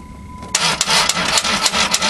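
A Dodge Caravan engine cranks on a cold start at -25 Celsius, a sudden loud burst of rough, uneven cranking and churning after a faint electrical whine, close by.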